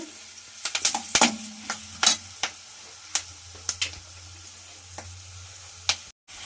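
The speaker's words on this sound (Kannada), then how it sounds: "ಲೋ ಫ್ಲೇಮಲ್ಲಿ ಒಗ್ಗರಣೆ ಹಾಕೋಬೇಕು" Spices for a tempering crackle and pop in hot oil over a low flame, with scattered sharp sizzling bursts over a low hiss, fairly close.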